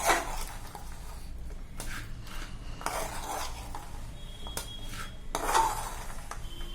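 Jaggery and wheat flour are mixed by hand in a bowl, with intermittent scraping and clinking of a utensil against the dish in short bursts amid quiet gaps.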